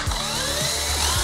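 A power drill runs loud and close, a continuous whirring motor with slight pitch wobbles throughout.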